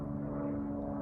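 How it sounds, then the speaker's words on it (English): A propeller airplane flies overhead, its steady low engine drone filling the whole second as one continuous, fairly loud rumble with no other sounds on top. "Sorry about the plane. It's gonna go over right now."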